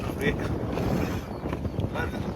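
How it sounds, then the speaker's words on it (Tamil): Cool outdoor wind blowing at a suburban housing plot near Vikravandi, a steady broadband rush buffeting the microphone throughout, with faint voices underneath. "நல்லா சில்லுன்னு இருக்கு காற்று."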